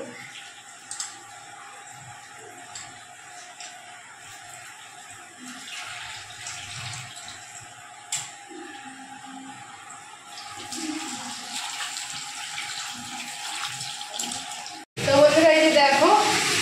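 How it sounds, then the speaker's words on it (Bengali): Tap water runs steadily into a kitchen sink while raw chicken is washed, with a louder burst of splashing near the end, under intermittent talking. "এই যে দেখো চিকেনটাকে ধুয়ে নিচ্ছি ভালো করে"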